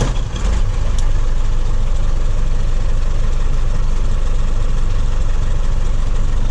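A truck engine, a MAN with a clutch fault, starts with a short burst and settles into a loud, steady, rumbling idle close to the microphone, with no talk over it.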